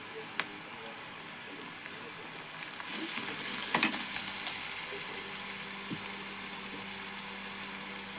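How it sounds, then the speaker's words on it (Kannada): Peanuts and curry leaves fry in hot oil with a steady, fairly quiet sizzle and faint stirring scrapes throughout, with no talking. "ಈಗ ಶೇಂಗಾ ಹಾಕ್ತೇನೆ ಇದ್ರಾಗ ಕರಿಬೇವು. ಎಣ್ಣೆ ಒಳಗೆಲ್ಲ ಫ್ರೈ ಮಾಡೋಣ್ರಿ ಇದನ್ನೆಲ್ಲ."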